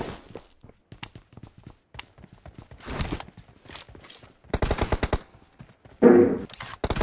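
Gunfire in the mobile battle royale game BGMI, rapid bursts of automatic fire mixed with single shots and short pauses, loud and close with no talking.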